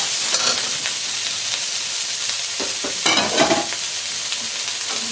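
Broccoli and raw red peppers stir-fried in a wok, crackling with loud steady sizzle and bursts of tossing and scraping, near and without any voices.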